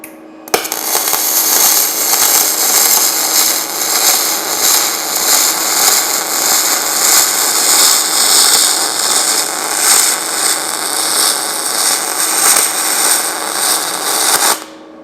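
Welding with a YesWelder Firstess DP200 multiprocess welder at about 19.5 volts: a steady, loud, continuous crackling hiss that runs unbroken for roughly fourteen seconds, starting and stopping abruptly.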